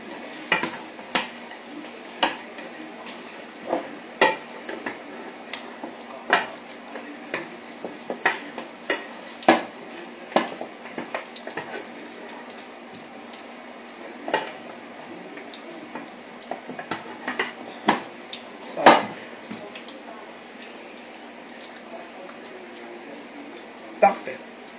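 Stirring puree in a pot while chicken cooks, with scattered spoon clicks and scrapes against the pot at an uneven pace beneath a steady background hum.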